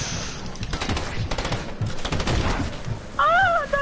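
Rapid gunfire in Fortnite, a dense burst of repeated shots over a few seconds, moderately loud, with a warbling electronic tone rising near the end.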